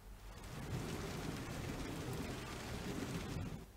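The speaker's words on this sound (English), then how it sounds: "It's rainy and wet." Steady rain falling with a low rumble of thunder underneath, a constant soft wash of drops that stays even and fairly quiet with no voices.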